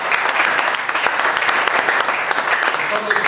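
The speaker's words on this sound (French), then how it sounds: "On va applaudisser pour le Seigneur." A congregation applauds during a French-language sermon, steady mixed clapping with a murmur of voices throughout.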